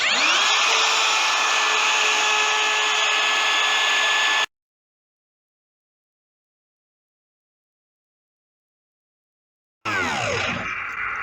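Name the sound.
router cutting a cavity using a custom router base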